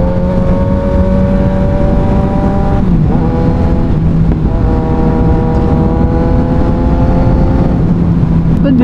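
Kawasaki Ninja 1000SX motorcycle exhaust in sports mode, a loud continuous engine roar recorded close, with rising and falling revs and shifting tones throughout as the bike accelerates.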